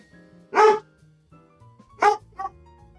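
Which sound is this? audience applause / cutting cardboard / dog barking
dog barking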